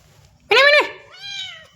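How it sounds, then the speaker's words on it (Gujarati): A cat shut inside a house meows, first one loud, sharp call and then a softer, drawn-out second cry, both close by against a quiet background. "અંદર મીંદડી છે યાર પૂરી ગયા છીએ"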